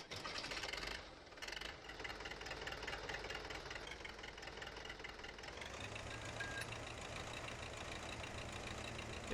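A tractor engine in Farming Simulator 15 runs steadily in an orchard, a rough, continuous rumble with a knocking texture that deepens into a low drone partway through, with no talking.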